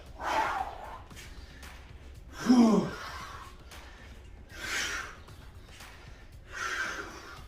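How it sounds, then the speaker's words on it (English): Heavy breathing during a high-intensity cardio workout: several loud gasping exhales and sighs spaced a couple of seconds apart, close to the microphone. "Oh, I'm breathing heavy, hopefully you are too."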